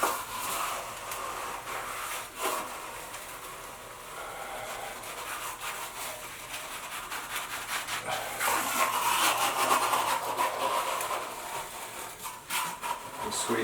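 Scraping and rubbing of a hard trowel spreading thinset across a shower wall for waterproofing, a close, uneven swishing with brief knocks, rising louder toward the end.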